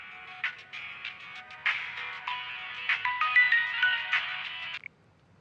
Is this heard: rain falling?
no